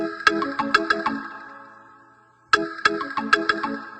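Keyboard playing bright bell tones, a chiming sequence of struck notes that rings out, pauses, then repeats, with no talking.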